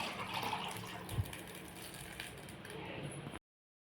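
Water pours and splashes into a pan for a few seconds, a close, steady gushing that cuts off abruptly.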